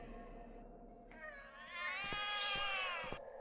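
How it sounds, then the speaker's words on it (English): Cats meow in the video game The Cat Lady, one drawn-out rising and falling cry over a quiet ambient hum, with a few soft thuds near the end. "The cats are alarming."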